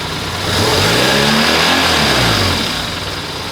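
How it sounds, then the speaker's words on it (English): BMW R1100RT motorcycle boxer engine during throttle body sync, loud and close, idling then briefly revved with a swelling, falling engine note, no voices. "This is idling now, and under load"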